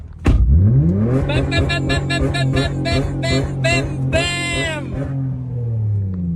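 A Honda 3.5 V6 engine in a manual-transmission car starts, then revs repeatedly through rising and falling pulses, close and loud, settling back to a steady idle.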